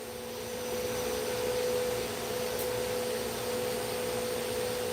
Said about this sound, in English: my wife is running the vacuum in the background